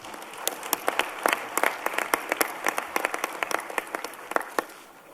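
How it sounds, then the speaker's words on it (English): Delegates at a conference plenary session applaud, with sharp individual claps standing out from a steady wash of crowd clapping that keeps an even pace and tapers off at the end. "you can give them a round of applause"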